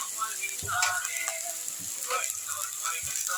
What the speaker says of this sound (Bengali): সবজিগুলো আমি ভালো করে ভেজে নেব।